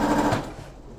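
A home sewing machine stitches stable fabric pockets together, a close, rapid mechanical rattle of the needle that fades off after a short burst.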